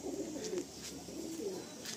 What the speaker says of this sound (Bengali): খুব সুন্দর পায়রাটা বেরিয়েছে,